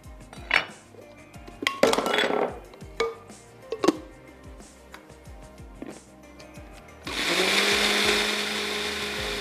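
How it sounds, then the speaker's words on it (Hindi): Onion slices being ground in an electric blender: a few sharp clinks and knocks of kitchenware come first, then the motor kicks in for the final couple of seconds with a loud, steady whirring roar. "इन स्लाइसेस को भी हम अच्छा सा पीस लेते हैं।"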